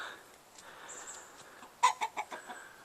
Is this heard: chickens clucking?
yes